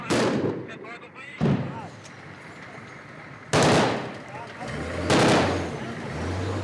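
Heavy gunfire from armoured vehicles and infantry during urban combat in Mosul, Iraq, with loud close bursts and booming shots at irregular intervals over a constant rumble of background firing and engine noise.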